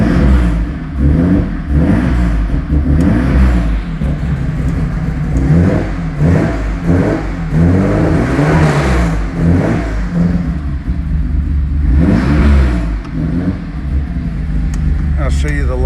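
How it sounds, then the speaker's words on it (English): The engine of an unrestored 1974 BMW 3.0CS E9 revs loud and close, rising and falling repeatedly in a steady rumbling growl with no pause through the whole stretch. "let me let you listen to it rev for a second."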